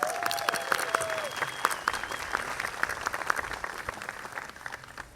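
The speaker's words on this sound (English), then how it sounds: "Let's give him a round of applause." Applause from an audience at an evening foundation gala, steady dense clapping sustained throughout with a brief voice near the start.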